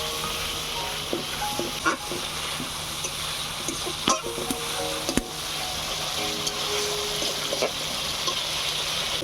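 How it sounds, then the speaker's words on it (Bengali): Masala with Kashmiri chili and a little water sizzles steadily in a pan while a spatula scrapes and knocks now and then, close and moderately loud. "এবারে কষিয়ে নেবো মশলাটা।"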